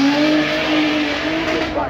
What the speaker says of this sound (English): here we go, a bit of good old-fashioned German V8 muscle